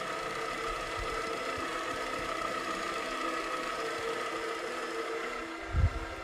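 A MiniMax Terminator carpet encapsulation machine cleans carpet with a steady, even mechanical hum and whir that holds throughout, with a brief low thump near the end.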